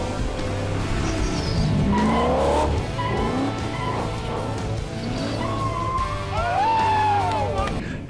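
A drift car doing a handbrake park, with loud close tire squeals and skidding over a droning engine, and people talking at the same time.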